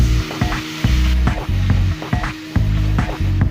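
Water used to rinse spice paste hits a pan of frying green chili paste and spices, setting off a loud, close sizzle that surges in repeated bursts.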